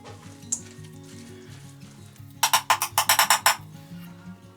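Chicken sizzles in a frying pan as it is broken up with a utensil, a run of sharp scraping, crackling bursts over soft background music, close and clear.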